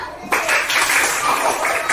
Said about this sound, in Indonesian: bikin presentasi kelompok 5, tepuk tangannya